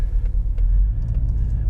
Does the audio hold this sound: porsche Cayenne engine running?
yes